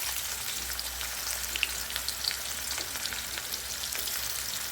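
Dried red chili, a cardamom pod and chopped onion sizzle in hot oil as the tempering for a capsicum chicken kosha, a steady close crackle and hiss with no talking.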